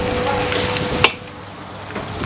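Chicken stir-fried in a wok for nasi goreng, a steady broadband sizzle with stirring scrapes and one sharp clank of the spatula partway through, after which the frying settles quieter.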